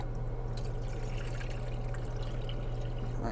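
Water poured into a cooking pot for grits, a steady close splashing stream running throughout with a low constant hum beneath it.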